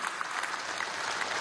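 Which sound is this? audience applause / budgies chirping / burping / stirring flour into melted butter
audience applause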